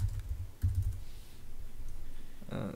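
Brief, soft clatter of fingers typing a search on a computer keyboard, a few quick keystrokes in a quiet room followed by a faint click.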